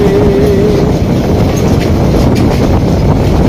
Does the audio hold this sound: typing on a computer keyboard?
no